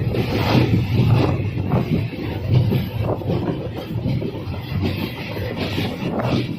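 A train rumbles across the Godavari river bridge near Rajahmundry with a loud, steady low roar and faint rhythmic clatter, heard from inside the carriage and continuous throughout.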